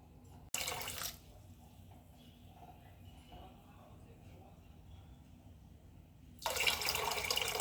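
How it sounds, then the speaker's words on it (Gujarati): About three cups of water are poured onto four cups of sugar in a pot for fennel syrup. A brief splashing pour comes at the start and a louder, sustained pour near the end, with quieter sound and possible talk between. "3 કપ જેટલું પાણી નાખીશું"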